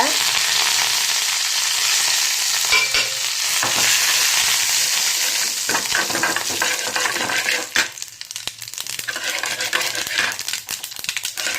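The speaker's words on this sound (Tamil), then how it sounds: "கடுகு நல்லா பொரிஞ்சிருச்சு" Mustard seeds, urad dal and curry leaves crackling in hot oil in a pan, a loud steady sizzle with sharp popping bursts that thins out toward the end, no talking.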